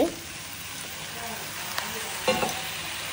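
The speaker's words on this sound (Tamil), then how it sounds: "இதில் உள்ளி வதக்குறோம் தெரியுமா?" Onions, ginger paste and tomatoes fry in a pan with a steady, soft sizzle, broken by a couple of brief scraping stirs near the end.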